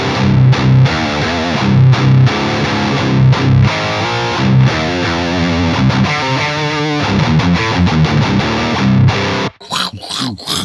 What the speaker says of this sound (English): Listen to the palm mutes.